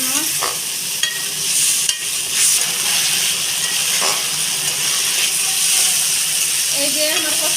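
Fish curry masala, cooked down with salt and a splash of water, sizzles steadily in a pan while a utensil scrapes and stirs it in irregular strokes; a continuous close hiss runs throughout with no talk.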